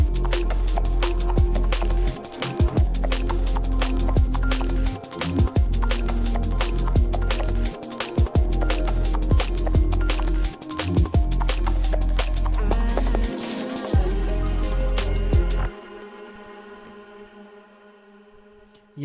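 A synth patch run through distortion, a filter and chorus plays a dense, rhythmic electronic part with repeated sharp hits and brief dropouts, loud throughout before thinning into a fading echoing tail.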